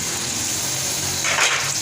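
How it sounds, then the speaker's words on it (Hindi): A little water is poured into fish curry masala with tomato and green chilli in a pan, a short gushing splash near the end over a steady background hiss. "थोड़ा सा पानी डालूंगी मैं।"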